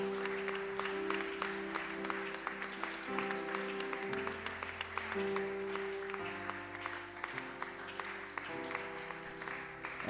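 A church congregation claps steadily through a celebration service as sustained organ or keyboard chords play underneath, a dense, even applause from a full room.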